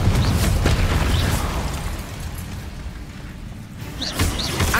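A Confringo blasting spell explodes in the Hogwarts Legacy video game, a loud booming burst that rumbles and fades over several seconds before another sharp crackle near the end.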